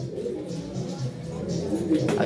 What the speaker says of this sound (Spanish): Todas esas palomas, todas son hijas, nietas y bisnietas de todos.